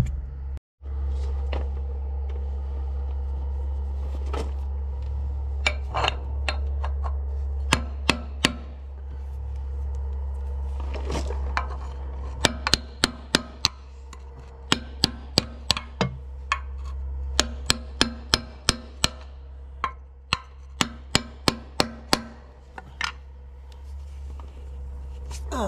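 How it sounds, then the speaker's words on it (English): A small hammer tapping the PTO housing of a John Deere 4840 tractor back into place, sharp metallic taps scattered and then in quick clusters over a steady low hum, close and distinct. "Gotta get a little hammer and kind of tap that thing in also."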